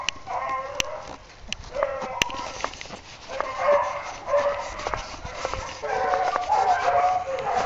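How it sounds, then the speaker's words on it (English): Hunting dog barking out in an open field during a Tennessee rabbit hunt, a few short sharp barks scattered over steady outdoor background noise, at moderate distance. "There was a dog that just jumped in there."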